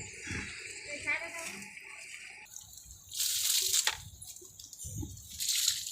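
Water is poured onto a pumpkin plant in a garden, producing short splashing, trickling bursts that come and go beneath people talking nearby.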